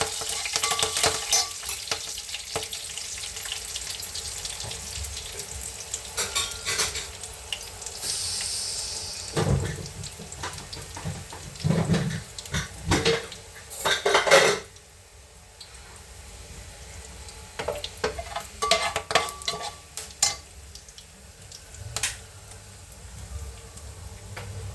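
Curry leaves, cumin, mustard seeds, garlic and urad dal frying in a tempering; a steady, close sizzle and crackle with stirring clatter and a few louder bursts, and running water nearby at times.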